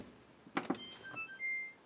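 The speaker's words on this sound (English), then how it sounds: "that beeping sound you hear" Faint electronic beeps from a GE GTW680BSJWS washing machine control panel, a couple of short tones followed by a quiet held beep, in a hushed room.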